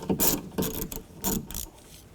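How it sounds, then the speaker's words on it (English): A ratchet with a 10mm socket turns a bolt on a 2007-16 GMC Acadia door, making several short clicking bursts in an uneven rhythm, close and clear. "And then take a 10mm socket. Take this bolt out right here."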